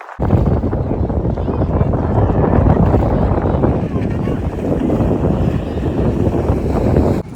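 A boat on a creek ride at Tarkarli gives a close, continuous rush of motor and water, heavily mixed with wind buffeting the microphone.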